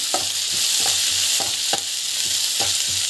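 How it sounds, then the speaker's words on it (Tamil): Ginger garlic paste and chana dal sautéing in a pan: a spatula scrapes in quick, regular strokes, about eight of them, over a constant close sizzle, with no talking. "அந்த பச்சை வாசனை போகிற வரைக்கும் நல்லா வதக்கணும்"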